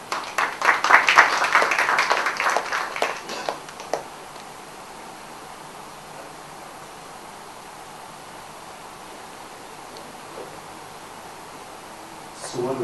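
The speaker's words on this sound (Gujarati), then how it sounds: "આપણે બંને વક્તાઓને તાળીઓથી વધાવીશું." An audience at a literary gathering claps for two speakers taking the stage, a burst of applause lasting a few seconds before fading into quiet room tone.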